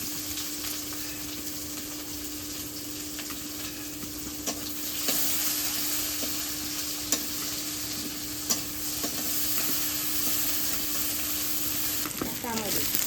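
Chopped onion frying in a pan, a continuous near sizzle with occasional utensil taps and stirring scrapes, steady and unbroken for the whole stretch.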